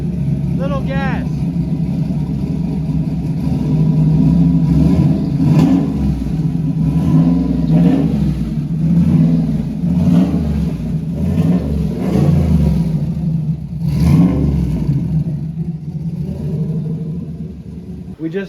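A turbocharged Chevrolet Nova engine runs loud and close, blipping the throttle in repeated revs that rise and fall over a deep idle rumble, with people talking faintly underneath.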